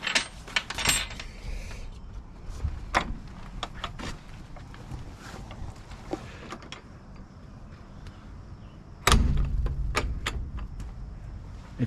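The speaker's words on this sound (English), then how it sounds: "I got these barn door latches off of Amazon." A metal barn door latch on a small kit greenhouse door clacks and rattles in a series of sharp, close metallic clicks and knocks, with a louder thump near the end over a quiet background.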